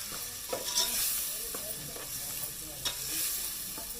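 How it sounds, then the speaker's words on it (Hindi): Spice masala sizzles and fries in a pan for moong masoor dal, a steady hiss broken by several soft scrapes and clinks as it is stirred. "ये देख लीजिए, मसाला भून रहा है"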